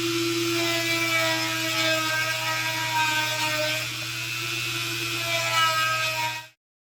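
A power tool whines steadily with a high, sustained tone as it enlarges bridge post holes on a Classic Vibe Jazzmaster guitar, close and loud before cutting off abruptly near the end.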